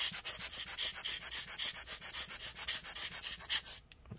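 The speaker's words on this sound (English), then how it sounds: "Okay, and scrub it a little more. Make sure that the corrosion isn't crossing any pins" A small brush scrubbing white corrosion off laptop connector pins on a Dell Inspiron 5570, a close, brisk rhythmic scratching of about twenty quick strokes that stops abruptly near the end.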